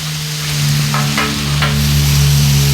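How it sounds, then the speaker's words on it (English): Burgers sizzling loudly and steadily on a Blackstone griddle, a dense frying hiss with a low steady hum beneath and a few brief scraping stirs. "I know when you cook burgers on this, it's going to be loud."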